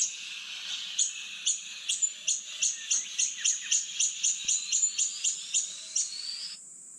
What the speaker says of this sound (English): let me play the sound and see if there's a response from the bird